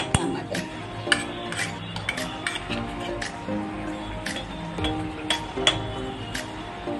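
A metal spoon clinks repeatedly against a pot or bowl while ghee is added to a coconut and jaggery filling for ukadiche modak, with sharp close taps scattered irregularly over soft kitchen background.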